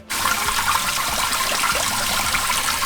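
Cut potatoes and vegetables for mole de olla are washed under running water, giving a steady, loud gushing splash that starts abruptly and continues without a break.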